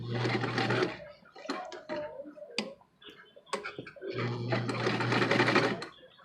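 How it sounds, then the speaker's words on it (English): A sewing machine stitches a fabric face mask in two loud, close runs of rapid, rhythmic needle clatter, separated by a quieter pause with small clicks and handling sounds. "I'm going to make this stitch a box."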